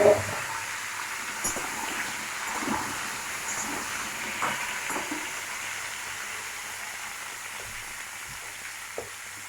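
Papaya and potato fry with black cumin in a pan, giving a steady, even sizzle that runs unbroken throughout, with a few faint clinks on top and no voices.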